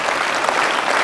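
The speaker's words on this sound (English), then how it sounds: "Let's just give them a round of applause one last time" Sustained, dense applause from a conference audience honoring a panel of speakers, steady and even throughout with no pauses.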